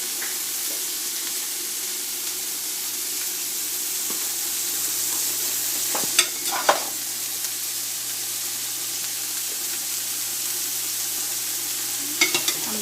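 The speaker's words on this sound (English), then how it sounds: "I'm going to stir the meat, keep stirring it till it absorbs all the sauces and the oil separates" Mutton stew meat is stirred in sauce and oil with a continuous close sizzle and hiss, and occasional spoon scrapes and knocks against the pot.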